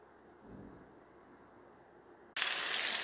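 Chicken pieces dropped into hot oil for deep frying, a loud broadband sizzle bursting in abruptly after a quieter stretch of low kitchen background, then holding steady and close.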